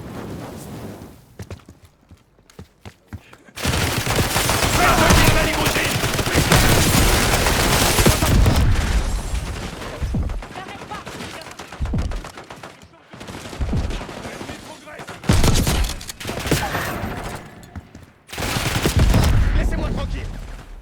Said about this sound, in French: Ils ont un fusil à pompe.